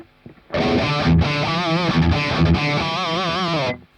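Heavily distorted electric guitar through a Quad Cortex amp modeler with a bit of reverb plays a sustained riff with bending notes, loud and close, then cuts off abruptly.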